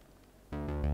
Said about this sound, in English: but with the ARP, and you're just playing one single note